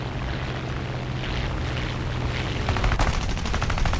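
Machine guns of an F4U-4B Corsair firing in War Thunder, a rapid rattling burst rising over the drone of the propeller engine, loud and continuous in the final second.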